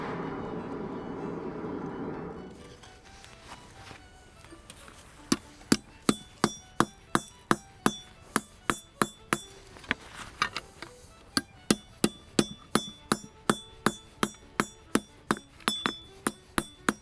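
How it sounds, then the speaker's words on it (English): A hammer strikes a knife tang at the forge, drawing out the metal in steady, sharp, ringing blows that come in quick runs with short pauses, close and loud after a brief low roar at the start. "So I'm going to hammer"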